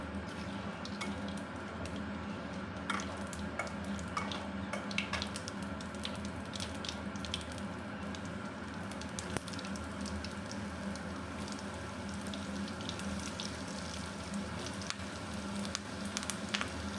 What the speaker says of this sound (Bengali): আলুগুলো হালকা লাল করে ভেজে নেবো আগে।